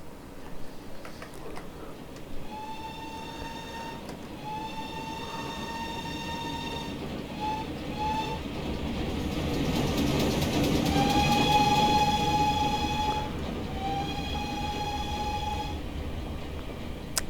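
A GWR Small Prairie 2-6-2T steam tank locomotive in Train Simulator Classic rolls past, its steady rumble swelling to a peak mid-pass while two long, bright whistle-like tones ring out, then easing away.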